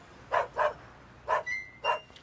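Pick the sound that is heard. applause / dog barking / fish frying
dog barking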